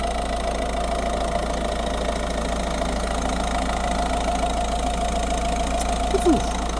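A Citroen C4 Picasso 1.6 HDi 115 diesel engine idles at a steady, close, continuous drone with no talk over it, ending in a brief faint sound near the end.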